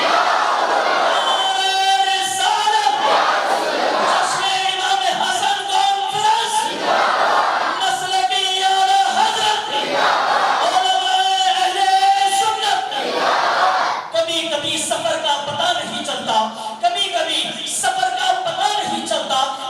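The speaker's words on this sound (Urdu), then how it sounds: "نعرہ لگائیے، نعرے تکبیر" A large crowd at a religious conference loudly chants the Nara-e-Takbeer slogan in repeated call-and-response waves, voices roaring together in a steady rhythmic pattern that fills the hall.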